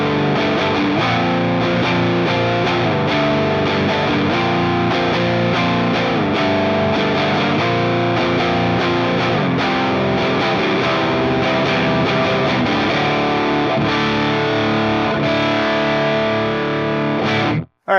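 Distorted guitar pedal tone played through only the power amp section of a Peavey amplifier, fed into the effects loop return with the preamp bypassed; a steady, dense, driven riff runs loud and continuous until a sudden cutoff at the end.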